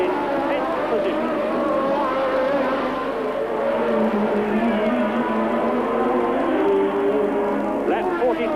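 Formula 1 cars at the 1981 Austrian Grand Prix roar past on the circuit, a continuous loud engine drone with pitch shifts as cars go by, heard under steady race commentary.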